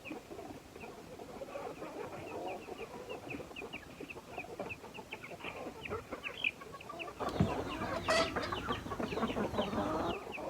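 Several hens cluck and murmur softly, with light rustling and pattering around them, growing busier and louder near the end.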